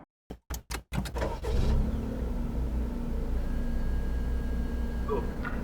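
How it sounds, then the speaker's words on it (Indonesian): A 2015 Daihatsu Copen engine is cranked with a few short bursts, then catches and settles into a steady, fairly quiet idle. "Kita nyalakan dulu mesinnya."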